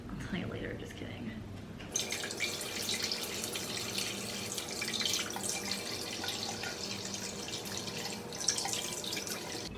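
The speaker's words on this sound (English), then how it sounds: "After I wash my plums" Tap water runs steadily into a sink while plums are washed, a continuous splashing hiss that starts after a quiet first two seconds and carries on close by to the end.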